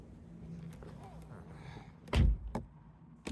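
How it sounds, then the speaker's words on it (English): A Kia Soul car door shuts with a single solid thud, followed by a lighter knock, amid quiet interior background noise. "Let's go in the car, close the door, and see if I can open it."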